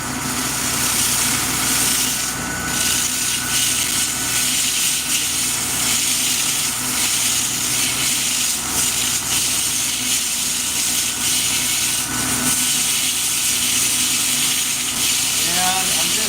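A forged knife from a classic American series is polished on a powered machine under moderate pressure. It gives a steady, loud whirring hum with hissy grinding that runs continuously throughout.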